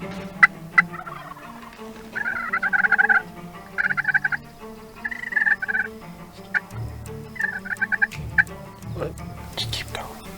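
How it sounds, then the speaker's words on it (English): Wild turkey gobblers in Idaho or Washington let out several loud rattling gobbles in bursts, answering one another at moderate distance, with sharp clucks and outdoor background noise between them. "So far I get them to gobble, but I can't get them to come this way."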